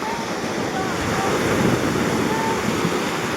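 Ocean waves surge and wash near fishing boats landing on a beach, a loud, constant roar of surf mixed with wind buffeting the microphone, with faint voices underneath.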